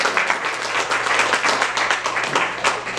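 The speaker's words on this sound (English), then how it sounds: "Everybody give Tamara a rousing applause as she comes up." Audience applause at a club meeting as a guest speaker comes up, a close, loud burst of many hands clapping with a faint steady hum underneath, continuing without talk.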